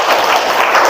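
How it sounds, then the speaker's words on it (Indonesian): A class gives a quick round of applause for a student, a short, loud burst of many hands clapping together that lasts under a second. "Ya, tepuk tangan untuk Ulay."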